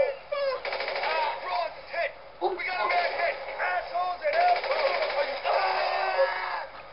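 Rapid gunfire bursts from a shootout in GTA 5 Online crackle through the scene, mixed with game effects while players talk over them continuously.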